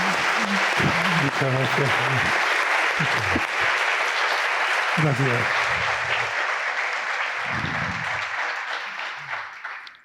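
Audience applause welcoming an author at a book night event, sustained clapping from a crowd while someone speaks over it to say thanks, the clapping fading out toward the end.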